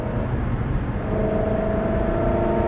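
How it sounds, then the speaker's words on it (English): Race car on a track accelerating along a straight, engine drone rising steadily with a slight pitch step as it shifts up a gear, continuous and fairly loud from a close in-car position. "Straighten up the wheel, accelerate along the straight. And up the gear."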